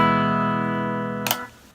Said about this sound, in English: I'm starting out with the clean sound.